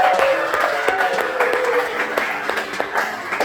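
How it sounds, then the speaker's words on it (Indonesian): A classroom of students claps together on cue from their teacher, a brisk scattered patter of hands close by with some voices mixed in. "tepuk tangan dulu"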